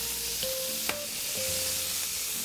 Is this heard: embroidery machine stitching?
no